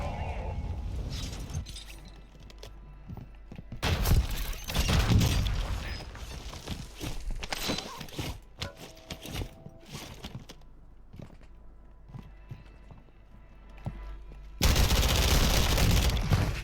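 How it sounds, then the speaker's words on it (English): Airstrike explosions on a rooftop in Warzone, heavy booming blasts mixed with rattling automatic gunfire, loud bursts coming in waves with quieter gaps between. "I want to airstrike this roof because I have a suspicion that somebody's up here."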